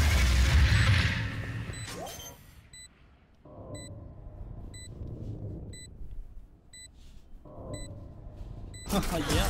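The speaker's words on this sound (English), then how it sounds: "Yeah, game. I love explosions." Steady electronic beeps of a planted spike repeat at even intervals over a low game rumble and chatter in the video game Valorant, ending in a sudden loud explosion.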